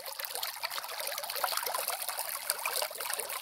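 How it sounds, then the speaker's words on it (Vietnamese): Water trickles and splashes without a break in a stream at the foot of a hillside farm plot, with a close, steady liquid babble and no voices. "Nước chảy thế này mọi người này."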